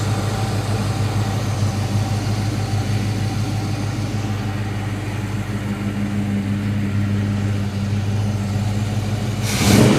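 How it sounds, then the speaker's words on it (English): A carburetted engine with a divorced automatic choke settles into a steady idle after a throttle kick, a continuous low, even rumble heard close up, ending with a brief louder burst. "Kick the throttle, and now we're down to idle."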